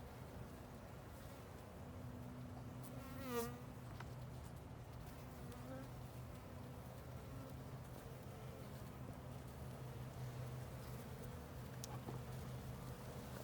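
Honeybees buzz at an open beehive with a steady, faint, continuous hum, while a person speaks quietly over it and a single insect drones past close by.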